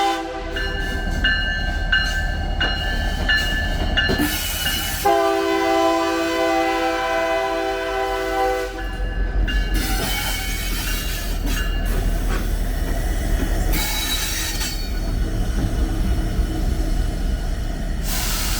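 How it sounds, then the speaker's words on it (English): Union Pacific locomotives roll slowly over turnouts into a team track, with loud rumbling wheels, clanking over the switch joints, long squealing flange tones and horn-like sustained notes, all close and continuous with no talk. "we'll see the engineer drive the locomotives over the turnouts and into the team track"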